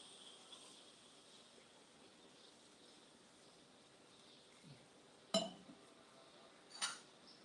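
Dishes and plates clink and clatter in a few sharp, brief knocks against a faint, steady background of insects outdoors, with no one talking.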